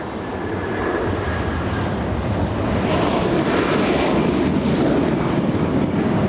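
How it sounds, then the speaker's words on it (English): A Boeing 747 airliner lands at LAX airport, a steady loud broadband jet roar sustained throughout with wind rumble on the microphone and no talk. "We also have a 747 landing in the south side."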